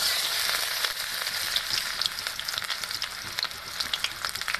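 Chopped onion frying in hot oil, a steady, close sizzle with bright crackling pops throughout and no talk.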